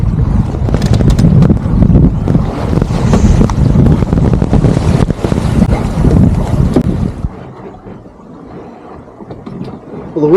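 Wind gusting over a sailboat on the water, a loud rushing roar with buffeting microphone noise for several seconds before it drops away to quieter water sounds.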